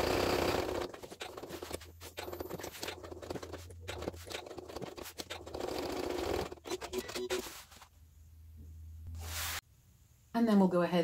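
A sewing machine stitches a bag panel slowly around a curve with a short stitch length, running in quick bursts of needle clatter with brief pauses between them, then going quiet near the end.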